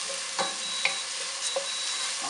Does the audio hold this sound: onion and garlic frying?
yes